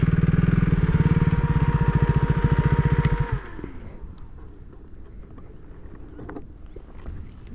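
2018 KTM RC 390 motorcycle engine idling close by, a loud rhythmic single-cylinder throb for about three seconds before it cuts off, leaving quiet ambient noise with faint clicks.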